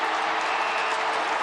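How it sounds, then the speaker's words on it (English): A stadium crowd at an Australian football match between Essendon and the West Coast Eagles stands and applauds after the final siren, a steady wash of distant applause and crowd noise with no break. "They stand and applaud this for a 16-point Bomber win."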